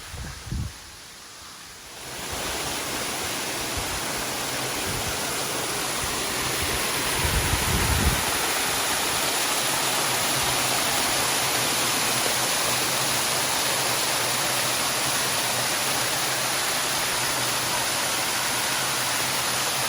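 A multi-level waterfall cascading through rainforest, heard as a steady, broad rushing roar that swells slightly and continues without a break, with no voices over it.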